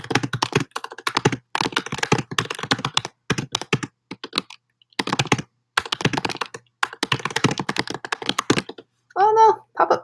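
Rapid clattering keystrokes on a computer keyboard come in bursts with short pauses, close and fairly loud, during a language-learning livestream; a brief voice-like tone sounds near the end.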